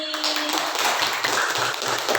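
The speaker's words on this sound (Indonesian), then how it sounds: "tepuk tangan untuk Mbak Rini." Students clap together in a classroom, a dense burst of applause that carries on steadily at moderate loudness throughout the short stretch.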